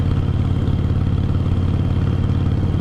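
A Harley-Davidson motorcycle engine rumbles steadily at low pitch, loud and close, with a constant throbbing idle and no voices over it.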